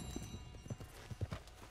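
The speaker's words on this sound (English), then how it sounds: "Oh, and our horse Clay's here" Horse hooves clip-clop in Red Dead Redemption 2 as the mount arrives, a handful of soft, uneven thuds at moderate distance over a faint steady game ambience.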